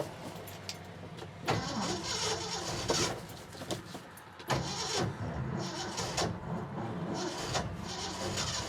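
A 1972 Ford Highboy truck engine cranks in repeated bursts, the starter grinding and churning loudly with brief pauses between attempts, sounding laboured as if nearly hydrolocked.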